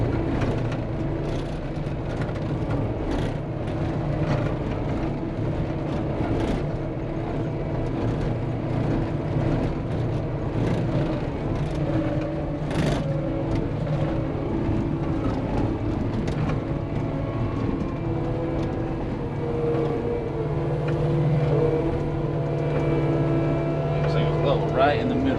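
A Cat 259D skid steer digs and moves dirt while backfilling, its diesel engine droning steadily and close throughout, with faint scrapes and knocks over the rumble.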